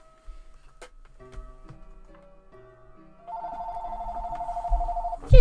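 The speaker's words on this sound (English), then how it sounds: "And my phone's ringing." A phone rings in the Deltarune video game: a steady, bright electronic ring rises over soft game background sounds and keeps going for about two seconds, ending with a sharp loud hit.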